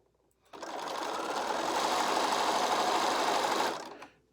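A sewing machine stitches across the folded top edge of a Christmas quilt block, a steady close whirring run of about three seconds with no talk.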